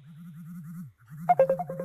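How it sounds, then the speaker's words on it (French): A mobile phone rings with a warbling electronic melody, then pauses briefly and resumes with brighter chiming notes layered on top. It sounds fairly close and plays alone, without talk. "C'est qui fait sonner mon téléphone là?"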